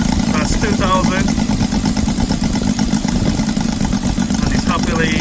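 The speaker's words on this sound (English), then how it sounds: "it happily stays at 2000 there" Saito FA-90 R3 model aircraft four-stroke with MMM CDI and intake conversion holds a steady 2000 RPM, an even, close rattling putter continuing under brief spoken comments.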